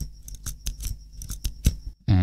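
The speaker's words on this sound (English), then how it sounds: "If I go slowly, you can hear that spring." Spring inside a capless fountain pen mechanism, worked slowly by hand: a series of small metallic clicks and scratchy taps spaced irregularly, close and fairly quiet, with no talk.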